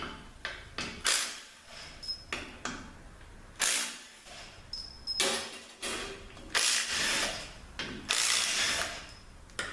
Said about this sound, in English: let's pull these pump bolts out